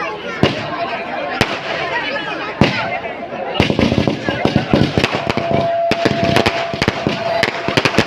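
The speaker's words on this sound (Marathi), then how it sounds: "आणि फटाक्याने त्यांचं स्वागत झालेलं आहे." Firecrackers burst at a village festival ceremony, first as a few sharp isolated bangs, then as a rapid, dense crackling barrage. Loud, close pops ring out over background crowd voices.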